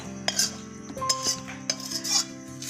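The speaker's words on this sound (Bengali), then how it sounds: "এবারে চচ্চড়িটা ঢেলে নিচ্ছি একটা থালার মধ্যে" Cooked pumpkin-stem chorchori with potato and brinjal is tipped from the pan onto a metal plate, giving a few close clinks and scrapes of utensil on metal over a faint hum, with no voices.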